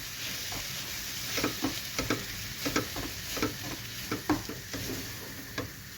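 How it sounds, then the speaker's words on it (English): Tomato paste sautéing in a pan for restaurant-style mushroom patiala, a low steady sizzle punctuated by a series of crisp spoon scrapes and taps against the pan, close and without talk. "Now add half a cup of tomato paste, or you can add about 1 cup of tomato puree. And saute this."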